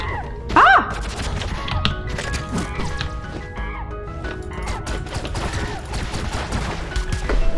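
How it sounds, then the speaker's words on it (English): Rapid bursts of shooting and thudding impacts from the pixel-art video game Owlboy, loud and busy, with a rising whistle-like tone near the start and layered game effects throughout. "I'll just shoot them like that."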